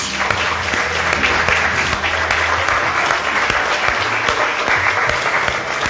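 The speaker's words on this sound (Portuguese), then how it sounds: "Quantos podem aplaudir ao nome de Jesus?" Sustained applause from a large church congregation, dense and steady clapping filling the whole stretch without pause.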